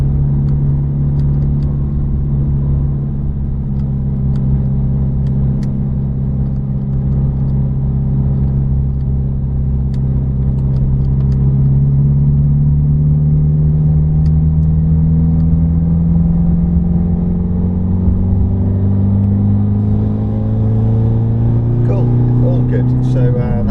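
A supercar engine accelerates on the Silverstone circuit with a loud, steady mid-range drone whose pitch climbs gradually as the revs rise. An instructor talks over it throughout.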